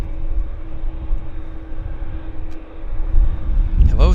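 An Air Canada Boeing 787 Dreamliner from Toronto taxis to the gate at Vancouver airport with a steady low engine rumble and faint whine, swelling slightly toward the end, with a voice talking over it.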